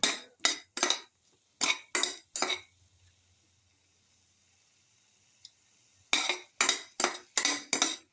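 A spatula scrapes and clinks through shrimp vermicelli pasta with pepper as it sautés in a pan: quick rhythmic strokes in two bursts separated by a few quiet seconds, with no voices.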